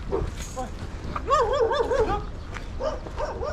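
Dogs on a trekking trail in Nepal during landslide season scuffle and yelp, with short barks followed by a run of high wavering whines and yips nearby, and voices in the background.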